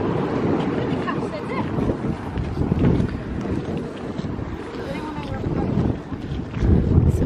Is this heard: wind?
yes